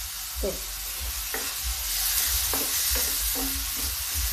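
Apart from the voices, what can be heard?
onions frying in a pan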